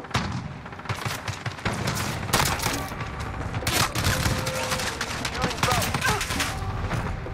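Gunfire in the Modern Warfare video game, with loud, rapid bursts and cracking shots that keep coming in a dense, uneven barrage for about seven seconds.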